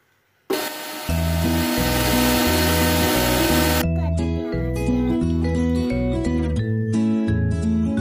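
An electric mixer grinder blending rose apple (chambakka) juice with cold water: a loud, steady motor whir and harsh grinding starting abruptly after half a second, continuing unbroken with music playing underneath.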